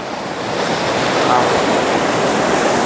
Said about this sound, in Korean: 막 물소리, 이렇게 저 거품만 보면요, 막 모든 스트레스가 다 뚫리는 것 같아요.